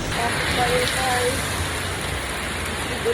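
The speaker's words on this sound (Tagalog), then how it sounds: "Grabe yung ulan, oh." Heavy typhoon rain pours steadily, a dense, even hiss close by with no breaks across the few seconds.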